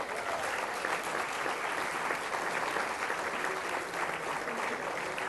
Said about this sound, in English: Big round of applause, please, for Dr. Jenny Lauschke.